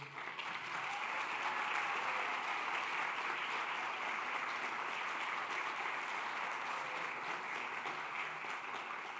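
A large audience applauds steadily at a Colombian Ministry of Labor event, a dense, even wash of many hands clapping throughout, moderately distant, with no talk over it.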